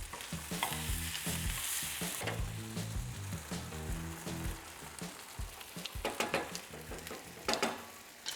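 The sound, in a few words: stirring one-pot risotto-style pasta in a pot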